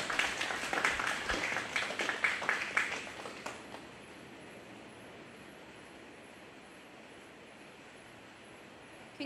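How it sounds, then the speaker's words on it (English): Audience applause for exhibitors at a 4-H and FFA goat show at a county fair, a few seconds of scattered clapping that fades into a quiet, hollow room hum. "Let's give these exhibitors a round of applause."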